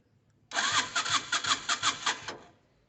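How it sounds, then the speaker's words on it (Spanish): Starter cranking a Vento Vthunder 250 motorcycle engine during a compression test, heard as one close burst of rapid, even chugging pulses lasting about two seconds without the engine firing, alone with no talking. "Entonces así ya abro el switch y vamos a hacer el ejercicio. Entonces vamos a girar el motor."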